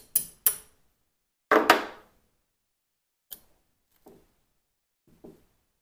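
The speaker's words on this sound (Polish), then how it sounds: "Wybijamy kołek pazura wyciągu." Hammer and drift knocking out the extractor claw pin of a CZ 75B pistol: two quick sharp taps, then a heavier double strike, followed by three faint light taps spaced apart, close and otherwise quiet.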